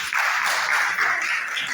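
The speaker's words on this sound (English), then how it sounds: "Can you clap for them?" A class claps for a presenting group, a close, dense burst of hand clapping that holds steady for about two seconds.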